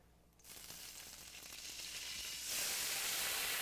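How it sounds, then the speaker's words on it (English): A hot pan hisses quietly, then bursts into a louder, steady sizzle as water is added while cooking smothered pork chops, close and continuous. "it's really going to sizzle when I add my water."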